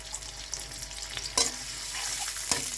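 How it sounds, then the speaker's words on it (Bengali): Garlic paste and chopped onion fry with a steady close sizzle in a pan, broken by a few sharp scrapes of stirring, without any voices. "এখন ভেজে নেড়ে নিচ্ছি বাদামি কালার হলেই হচ্ছে আমরা তুলে ফেলবো"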